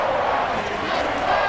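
Stadium crowd roar in an EA Sports NFL video game during a Cleveland Browns home game, a loud, continuous wash of noise with no breaks.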